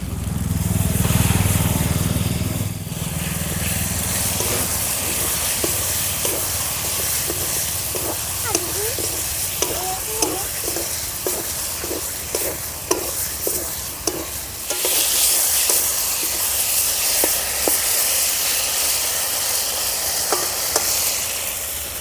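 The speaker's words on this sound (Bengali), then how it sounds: "মশলাটা কষানো হয়ে গেছে দেখো তেল ছেড়ে দিয়েছে এর মধ্যে দিয়ে দেব মাংসের কিমা" Chicken mince frying in a spiced masala in a pan over a clay stove, village dhaba style, giving a steady, close sizzle and hiss broken by repeated scraping stirs.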